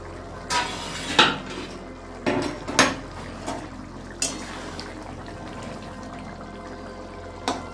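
A lid and utensil clatter on a metal cooking pot of boiling potatoes, with several sharp clinks and knocks spread over a soft bubbling, simmering background and no talking.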